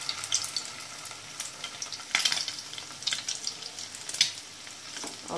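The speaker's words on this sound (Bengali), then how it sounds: "আস্তে আস্তে আপনি অনেকক্ষণ ধরে ভাজবেন" Raw minced meat kebabs dipped in egg fry gently in a pan, a soft continuous sizzle with scattered crackling pops and a few louder bursts, quiet and close with no talking.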